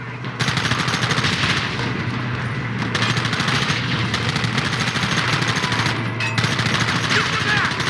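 Rapid, loud gunfire from Red Dead Redemption on PC, sustained bursts of shots and machine-gun fire, close and continuous with almost no pause throughout.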